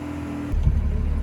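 A 4x4 vehicle drives on sand, its engine note rising abruptly after a quiet half second into a loud, steady low rumble close by, with no voices.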